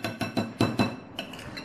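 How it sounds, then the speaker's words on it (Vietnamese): Seasoned beef for shaking beef, dressed with chili sauce and pepper, is mixed in a bowl, making a series of sharp utensil-on-bowl clinks, about seven close knocks in an uneven rhythm. "Bây giờ mình sẽ trộn đều lên."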